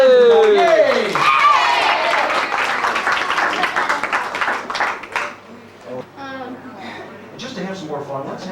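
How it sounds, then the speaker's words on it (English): Party guests at a 1996 fiftieth birthday celebration clap their hands in a sustained burst of applause, mixed with cheering and voices, before it thins into scattered talk and laughter. "Clap your hands."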